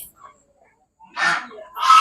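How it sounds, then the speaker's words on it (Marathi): Ducks at a rural pond give two short, loud honking calls close by, separated by near silence. "हे बघा बदक"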